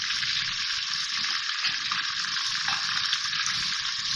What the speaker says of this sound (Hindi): अब इसको भूनेंगे चिकन को